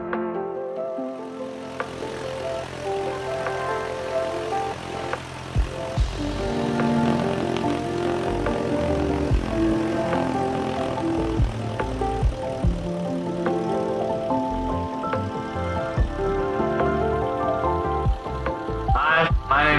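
A Cessna 172 propeller engine runs steadily and loudly up close, with a sustained droning hum and a rich buzz of harmonics throughout.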